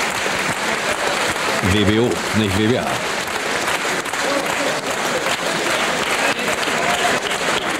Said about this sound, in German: Anhaltender Beifall für Wirtjes und auch für Taras Biedenkamp.